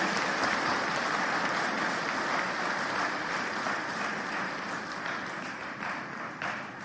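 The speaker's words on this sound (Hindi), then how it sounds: "तालियां बजा के अभिनंदन कीजिए, स्वागत कीजिए उनका। और ताली भी ऐसी नहीं, जरा जम के बजनी चाहिए" Sustained audience applause at the launch of a state energy yatra event, a dense, even wash of many hands clapping throughout, tapering slightly toward the end.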